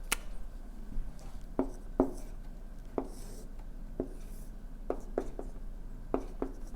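A pen sketching a quadratic graph on paper, quiet scratchy strokes and taps spaced irregularly over low room hiss, close by and with no talking.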